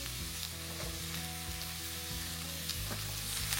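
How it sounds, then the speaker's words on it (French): Onions fry in very hot oil with a dense, steady sizzle, close and constant, with a low hum running underneath. "Je fais revenir mes oignons dans une huile bien chaude."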